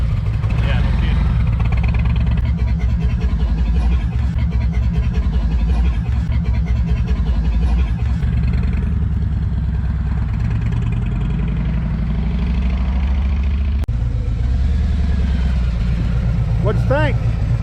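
A Harley-Davidson Road Glide motorcycle engine rumbles steadily while riding, loud and close throughout, with people talking over the constant drone.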